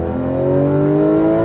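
A Porsche GT3 RS engine accelerates hard on track, heard from inside as a loud, steady, rising high-revving howl that climbs in pitch throughout.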